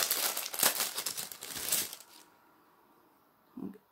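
Close, crackly crinkling of paper for two seconds, then near silence and a brief soft rustle at the end.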